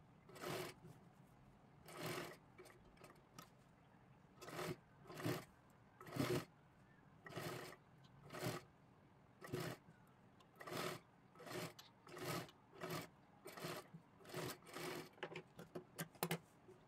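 Lace goes onto a pan-neck blouse neckline with a sewing machine working in short, repeated bursts of stitching, about a dozen quick runs separated by brief pauses. Each burst is fairly close and moderately loud.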